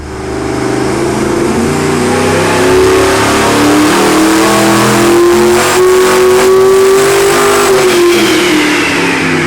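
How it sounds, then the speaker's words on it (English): A twin-turbocharged 632 cubic inch engine with mirror-image turbos, billet intake and stainless headers revs hard on a dyno, a loud, sustained roar whose pitch climbs steadily and then eases off near the end. "This is our 632 with the mirror image turbochargers"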